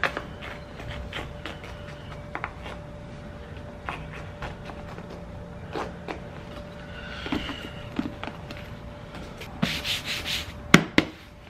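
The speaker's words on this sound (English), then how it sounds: "So I guess now I'm just gonna razor off all the excess and should be good after that." A razor blade trims excess seat cover material, giving close, soft rubbing scrapes and small clicks in an irregular rhythm, with a few sharper ticks toward the end and no talking.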